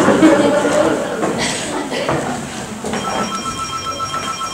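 A telephone rings at a Czech farm office, a bright repeating electronic tone that enters partway through, near and clear, with talk and movement before it.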